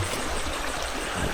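A river flowing outdoors, a constant bright rushing and splashing of water close to the microphone, steady throughout with no talking.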